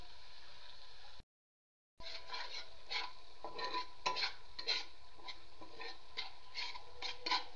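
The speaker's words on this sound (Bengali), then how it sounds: "এইভাবে একটু একটু করে পানি দিয়ে মশলাটাকে কষিয়ে নিতে হবে।" Spice masala being stir-fried in a pan with small splashes of water, a soft crackling sizzle with repeated scraping strokes of a spatula, quiet and close, briefly cutting to silence early on.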